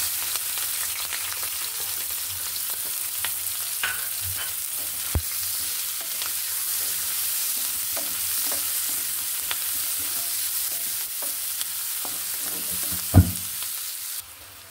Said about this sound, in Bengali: এখন আমি দিয়ে দিব পেঁয়াজ কুচি, কাঁচামরিচ কাটা।